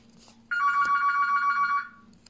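A telephone rings nearby in a home kitchen, a loud electronic trill lasting over a second after a soft knock, then fading, with quiet background noise and no talking.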